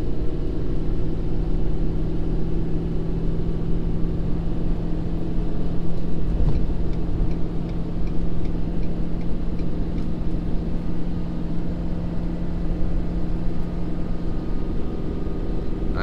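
A Ford Powerstroke diesel pickup with an S&B air intake, towing 31,000 lbs up a steep grade in fourth gear, gives a steady, loud, close engine drone and low rumble that holds for the whole stretch, with no talk over it.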